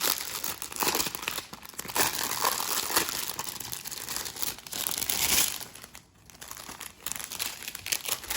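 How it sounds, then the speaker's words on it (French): Plastic packaging around diamond painting beads crinkles and crackles up close as it is handled and opened, in busy bursts with a brief quiet gap near the end and no speech. "Je vais les sortir de l'emballage."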